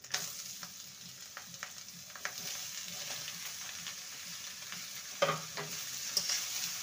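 Chopped bottle gourd is stirred and fried in a pan after ginger, a soft, steady sizzle broken by light scraping strokes of the spoon, with no voices.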